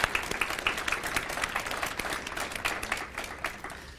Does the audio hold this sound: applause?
yes